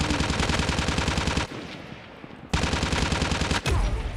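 Dense rapid gunfire bursts from Call of Duty Mobile, loud and close, break off briefly for quieter ambience, then resume in another sustained volley before a final sharp shot.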